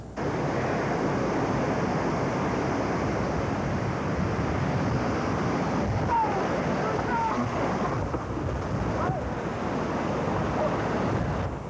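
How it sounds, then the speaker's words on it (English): Heavy surf from Hurricane Gloria in 1985 roars continuously ashore under strong, gusting storm wind in Rhode Island, a dense, loud wash of churning water with no let-up. "the waves began to come ashore"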